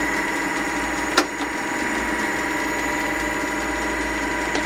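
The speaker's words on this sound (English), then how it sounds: "electric motor, running" Steady, even drone of the running electric motor on a Mikron F75 machine, a constant close hum with one brief knock near the start and no talk.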